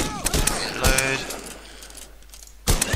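Clicking, ratcheting weapon reload in the survival game Rust, a few mechanical clacks and snaps close up over a steady game-ambience bed, ending with a sharp burst.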